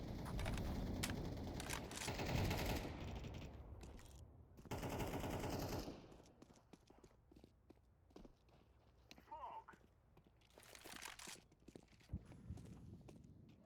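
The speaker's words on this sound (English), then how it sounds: "Did they shoot him?" Gunshots in the online game Entropia Universe: dense rapid firing for the first six seconds, then scattered sharper single shots and clicks, with a voice speaking quietly underneath.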